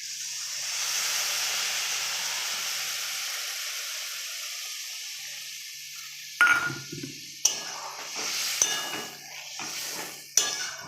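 Water is poured into a pan of stirred bitter gourd and potato: a steady hiss and sizzle that fades slowly, then a few sharp clatters of a utensil or pot near the end.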